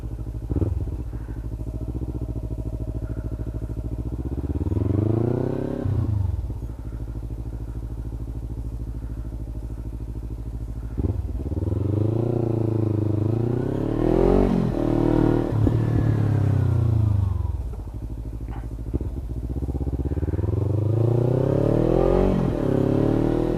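A Kawasaki Ninja 300 fuel-injected motorcycle is ridden, its engine rising through the gears in repeated climbing whines between shifts, steady and close throughout with no talking.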